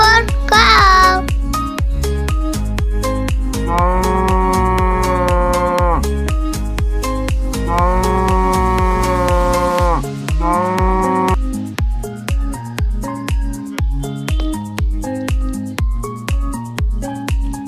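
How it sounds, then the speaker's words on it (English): A cow moos twice in long, loud, drawn-out lows, with a shorter call after them, all set over continuous rhythmic background music. "For cow."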